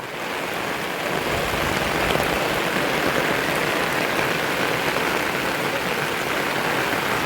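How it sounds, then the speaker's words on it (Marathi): Steady, heavy rain pours down continuously, a dense broadband hiss with no voices, loud and close throughout. "बघा कसलो पाऊस आहे"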